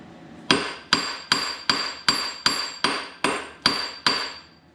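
A small hammer raps steadily on the gear of a 1947 Ford truck with a flathead engine, ten loud ringing metallic blows at an even pace, each fading briefly before the next.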